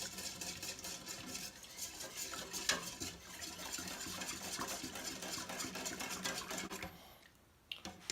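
Garlic and apple cider vinegar being mixed together in a bowl, a steady clattering and scraping of utensil against container that runs continuously and fairly close, tapering off near the end.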